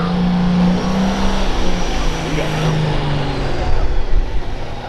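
A 3x3 Charger pulling tractor revs its engine at a farm tractor pull in Cuba City, Wisconsin, a loud steady roar holding throughout with a low droning tone, crowd or announcer voices faintly underneath.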